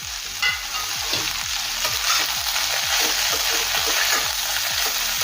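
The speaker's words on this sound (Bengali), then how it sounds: "আর গ্যাসের ফ্লেমটা হাই রেখে বাঁধাকপি সবজির সাথে একটু ভেজে নেব।" Cabbage, capsicum and other chopped vegetables fry hard over a high flame for veg chowmein, a loud steady sizzle broken by regular scraping strokes of a spatula stirring the pan.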